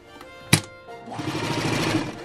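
A sewing machine runs steadily as it stitches around the edge of a fabric mug rug, starting after a sharp knock and continuing as a busy, even mechanical whir close to the microphone.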